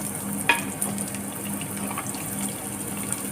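Onions hit hot oil in a pan for Tamil kara kuzhambu with brinjal, giving a steady close hiss and crackle throughout with a couple of faint clinks.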